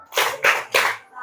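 A classroom group performs the 'tepuk salut' clapping routine: three loud, evenly spaced bursts of claps in unison, close by, with no talking over them.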